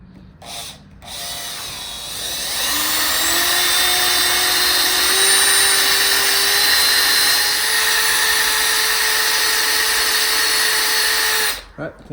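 A number 2 center drill cuts into metal on a milling machine, its steady whining drone rising after a brief start-up and holding level for about ten seconds before stopping.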